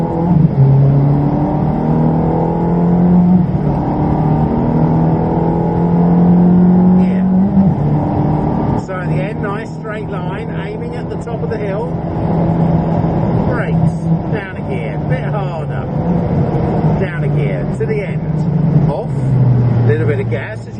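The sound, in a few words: Ferrari car accelerating on Silverstone circuit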